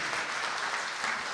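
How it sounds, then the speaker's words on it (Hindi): An audience claps at a Hindi poetry gathering (kavi sammelan) at a Hapur institute, a short, dense burst of applause at moderate loudness with no talk. "एक बार तालियों से आप उसे आदेशित करो कि हाँ वास्तव में"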